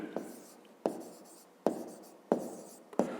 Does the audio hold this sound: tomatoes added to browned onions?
no